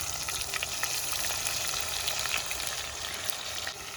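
Coarsely ground masala frying in four spoons of oil, a dense, continuous crackling sizzle close up with slight bubbling, no voices.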